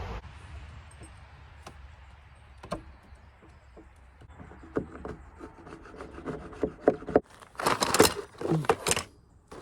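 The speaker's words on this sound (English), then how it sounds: "I just need to finish up with the chisel a little bit," A chisel pares and scrapes inside a mortise cut into a wooden chevron-pattern entry door, giving dry rubbing scrapes and sharp taps that grow busier and louder toward the end, with no talking.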